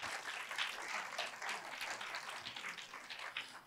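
Many worshippers in a church clap in unison, a continuous, fairly soft wash of hand claps that holds steady for several seconds before tapering slightly.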